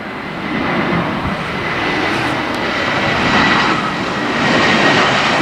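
An airplane passing at night, heard as a loud, steady broadband roar of jet engines that swells slightly toward the end, with no talking.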